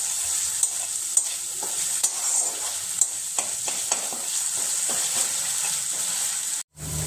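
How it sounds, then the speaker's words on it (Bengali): A spice paste of green chilli, garlic and ginger frying in oil, a loud steady close sizzle broken by intermittent stirring scrapes, cutting out briefly near the end. "মশলাটা ভালো করে ভাজা ভাজা করে নেব।"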